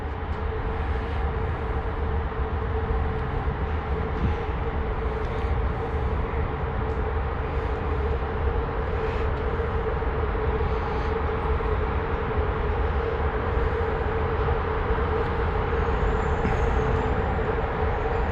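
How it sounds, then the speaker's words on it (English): A train at Romania's biggest railway station produces a steady, continuous rumble and hum that holds at an even level throughout, with no voices. "Another train waiting to go over there."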